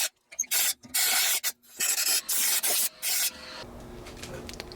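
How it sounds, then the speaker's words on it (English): Compressed air hose blasting out a heavily rusted Coleman 425C camp stove, with a string of loud, close hissing bursts separated by short gaps, then a softer steady rush of air. "I'm gonna get my air hose and make a little more noise here."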